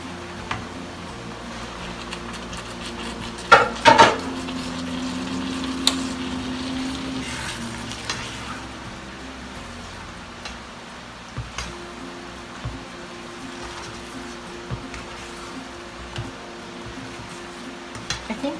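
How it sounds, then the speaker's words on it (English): Pan-fried gnocchi being stirred into a beef and thyme ragu, giving a soft, continuous low sizzle and wet scraping with a few louder clatters of the spoon against the pan early on, and no voices. "Now that our gnocchi is ready, we're just going to mix it into our sauce."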